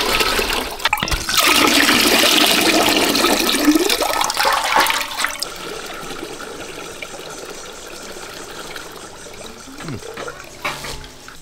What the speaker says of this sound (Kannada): ಬೊಂಡದ ನೀರನ್ನೆಲ್ಲ ಸ್ವಲ್ಪ ಅರಿಪೆಯಲ್ಲಿ ಸರಿಯಾಗಿ ಗಾಳಿಸಿಕೊಂಡು